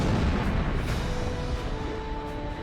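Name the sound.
missile launch in video game Ace Combat Zero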